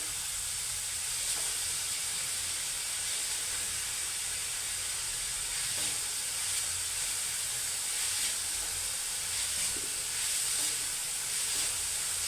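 Onion sautéing with salt in a pan gives a steady, close, soft hiss and sizzle that runs unbroken, with a few faint utensil taps.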